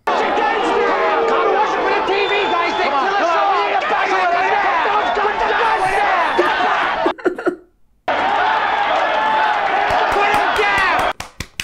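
Loud crowd of people shouting and cheering in a tense street standoff outside a bank robbery in Dog Day Afternoon, a dense continuous roar of many voices that drops out briefly near the end before surging back.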